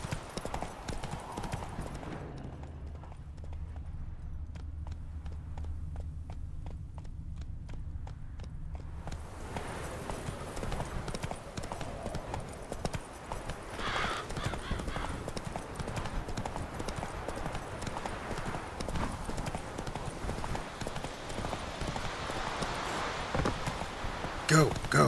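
Horse hooves clip-clop steadily in The Witcher 3 as the rider urges the horse on, a quiet muffled stretch giving way to louder, denser galloping with game sounds underneath.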